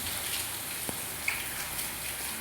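Steady rain falls outdoors as a dense, even hiss, with a few brief louder drops or splashes standing out close by.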